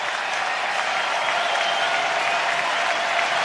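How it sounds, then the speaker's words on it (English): Baseball crowd at Wrigley Field on its feet, cheering steadily with two strikes on the batter late in a Cubs–Guardians game; a dense, continuous roar of voices and applause holds at an even level throughout. "Crowd on its feet making a lot of noise here at Wrigley Field"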